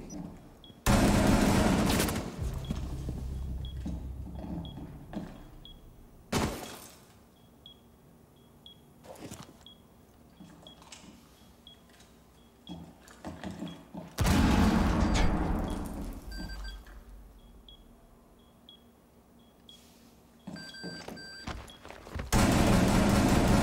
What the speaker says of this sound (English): God, I love this shotgun.